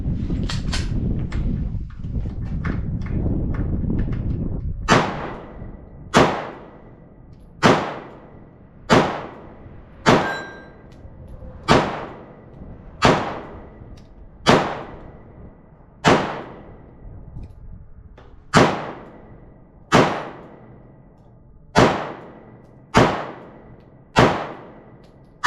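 Springfield Hellcat Pro pistol fired at an outdoor range, about fifteen sharp, loud shots spaced roughly a second or so apart, each with a short ringing decay, after a stretch of rustling handling noise.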